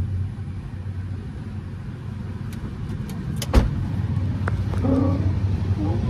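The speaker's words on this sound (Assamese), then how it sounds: "এয়া হৈছে ইঞ্জিন চাউণ্ড, বহুত ধুনীয়া চাউণ্ড" A Hyundai Eon's engine idles smoothly and quietly as a steady low rumble, with a few brief clicks and knocks near the car partway through.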